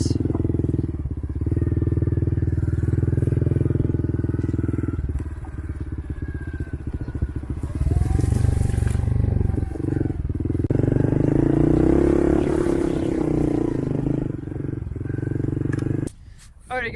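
A 2020 Honda CRF110F dirt bike fitted with a Yoshimura aftermarket exhaust runs and revs nearby, giving a steady raspy engine drone that rises and falls through the whole stretch, with one brief surge near the end.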